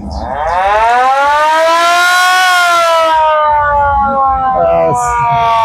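A trawler's siren or horn on a haor wetland sounds a long, loud, close wailing tone that rises, holds and slowly falls over several seconds, with faint background noise near the end.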